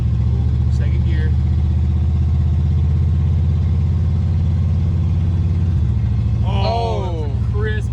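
A Pontiac Phoenix car driving with a steady engine drone, then a clear shift into second gear marked by a drop in engine pitch. It sounds loud and close from inside the car, with someone speaking near the end.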